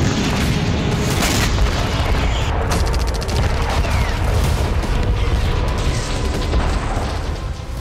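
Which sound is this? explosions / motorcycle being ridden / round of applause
explosions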